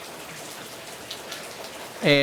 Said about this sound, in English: hope you could hear it in this rainstorm